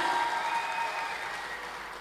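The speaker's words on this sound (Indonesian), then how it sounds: "Tepuk tangan" An audience at an awards night in Aceh breaks into applause, a steady rush of many hands clapping, slowly fading over a couple of seconds.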